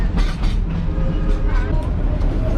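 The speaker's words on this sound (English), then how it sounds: "now we're gonna go and do a little scenic train ride" A scenic train ride: a passenger car rolls along the rails with a continuous rumbling clatter and faint rhythmic clicks, close and steady, while voices murmur faintly in the background.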